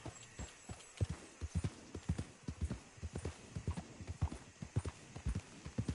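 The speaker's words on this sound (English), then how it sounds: "Okay, random horse." Hooves of a horse in Red Dead Redemption 2 clip-clop in a steady trotting rhythm, close and clear, with no voices over them.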